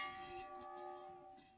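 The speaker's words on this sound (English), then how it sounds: "And that bell you just heard ringing means that our winning connections have generously donated" A bell rings at a horse racetrack after a race, its sustained ringing tone faint and distant, fading gradually with no talk over it.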